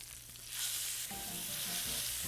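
Pork chops sizzle steadily in a hot pan while being pan-seared, a close, continuous crackling fry that swells louder after a brief quieter start, with no talking.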